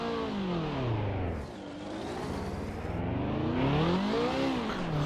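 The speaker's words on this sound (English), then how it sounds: "Wow, it sounds good. Pretty quick throttle response from a car at this age as well." A vintage racing car engine revs hard and close, pitch climbing and dropping in repeated throttle blips, loud and continuous throughout.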